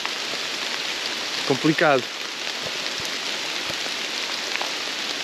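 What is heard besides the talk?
heavy rain falling in a forest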